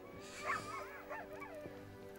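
Dogs whimpering and yipping at a distance, a few thin high whines rising and falling, fairly faint and without any talk over them.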